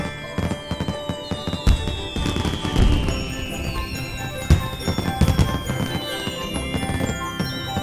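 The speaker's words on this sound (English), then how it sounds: "Look, they launched some fireworks just for you." A fireworks display launches with whistling rises and bursts into a steady patter of crackling pops and sharp bangs, with no voices.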